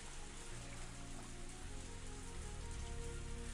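Rain falls steadily in the Higurashi When They Cry game, a soft, continuous patter over a low musical drone, faint and unbroken.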